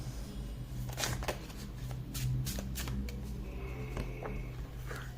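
Tarot cards shuffled by hand during a reading, giving repeated soft riffling and flicking bursts close by over a low steady hum, with no talking.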